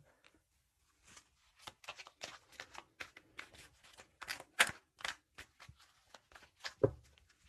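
A deck of tarot cards is shuffled close by in a run of quick riffling and slapping bursts that build in loudness, with brief gaps between them.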